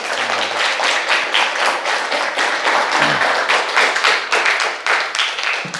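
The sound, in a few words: audience clapping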